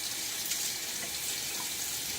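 A tap runs into a sink for rinsing during a wet shave, making a steady, close hiss of flowing water with no break across the short stretch.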